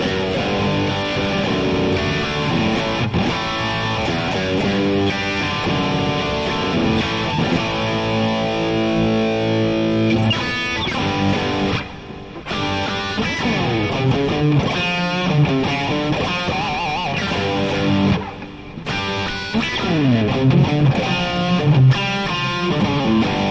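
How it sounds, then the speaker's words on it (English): Electric guitar played through a Tilt Overdrive pedal, a distorted, sustained tone with strummed chords and single-note lines, loud and alone with two brief pauses midway. "The old Tilt Overdrive."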